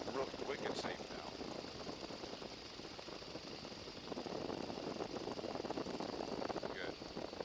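Small airplane engine droning steadily in flight on approach to a runway, a continuous muffled hum with faint cockpit noise, heard alone without speech.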